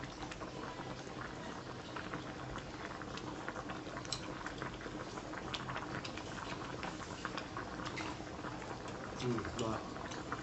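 Sukiyaki broth bubbles at a steady rolling boil in a hot pot while sliced meat is blanched in it, a continuous close simmering patter with a few clinks and soft voices in the background.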